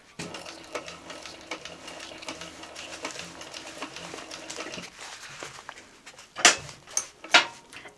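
A sewing machine stitches a backpack, its steady motor whir running continuously for several seconds, then a couple of louder sharp mechanical clacks near the end.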